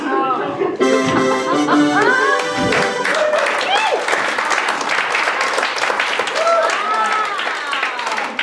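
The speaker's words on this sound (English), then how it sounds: "We really deserve that applause." A comedy audience claps and applauds continuously for several seconds while voices talk and laugh over the noise.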